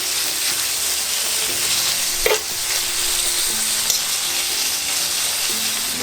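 Sukiyaki udon noodles being stirred in a frying pan, a steady close sizzle of frying with soft scraping and a brief utensil knock partway through, no talking.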